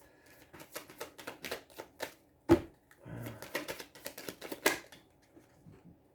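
Cards are shuffled close up, with quick riffling bursts and a few sharp snaps in uneven clusters, and no voices.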